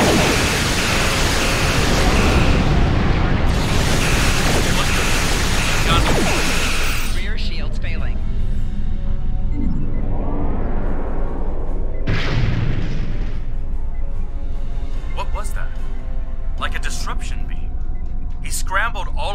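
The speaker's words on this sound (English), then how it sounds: "Computer, arm all weapons and fire!" Starship weapons fire in Star Trek Online, heavy booming blasts and broadband roaring bursts across the first seven seconds, then quieter mechanical tones and scattered energy zaps, with a voice speaking throughout.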